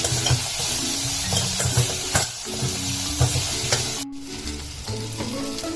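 Tomatoes go into a pan of onions and ginger already sautéing golden, for hotel-style rava kichadi; a steady close sizzle of frying runs throughout, with occasional stirring scrapes and a brief clack partway through.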